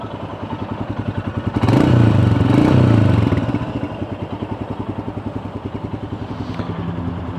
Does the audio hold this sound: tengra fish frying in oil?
no